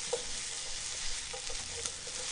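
Onion and green onion stir-fry in oil over high heat for Chinese-style egg fried rice: an even, hissing sizzle with a few small pops and stirring scrapes, quiet and with no talking.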